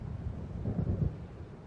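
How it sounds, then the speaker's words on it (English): A low, rolling rumble of thunder from a storm in the video game Alan Wake, swelling and fading under a steady windy wash, heard alone without speech. "It seems there's a storm coming."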